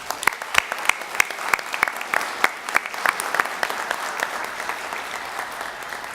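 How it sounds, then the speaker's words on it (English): Applause from an audience at a college sonography program pinning ceremony: a steady patter of many hands with sharper individual claps standing out, moderately loud and continuing for several seconds without talk. "So we owe these individuals a round of applause."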